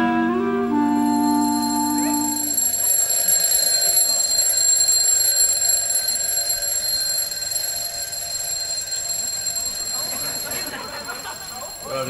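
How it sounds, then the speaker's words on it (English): An alarm clock rings with a continuous high, piercing tone that goes on for several seconds, loud and close, with faint voices in the background. "Your alarm's going."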